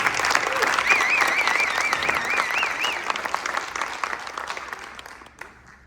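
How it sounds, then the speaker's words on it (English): A crowd at a Board of Education meeting applauds a school basketball team, with loud, sustained clapping and cheering that slowly fades out. A whistle-like wavering tone rises above it in the middle. "So a round of applause again for our team"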